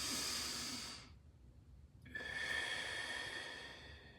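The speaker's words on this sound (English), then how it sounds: "Deep breath. Exhale." A deep breath drawn in with a long airy hiss, a short pause of near silence, then a long breathy exhale, close and fairly quiet, with no talking.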